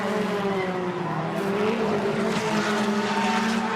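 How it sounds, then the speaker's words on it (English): A touring race car roars past at high speed on a circuit, its engine note loud and sustained with a slight pitch shift as it goes by, no voices over it. "Look at the speed the car's coming past, though."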